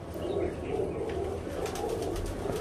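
Pure teddy breeder pigeons, all males, coo in a loft: soft, repeated throaty coos layered over one another at close range, steady throughout.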